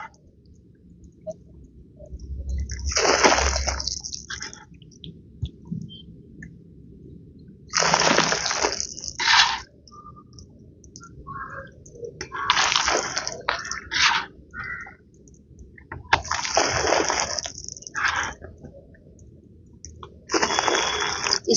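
Water poured out in five separate bursts, each a loud close splash of a few seconds with quiet gaps between, outdoors at dusk during monsoon season, no speech.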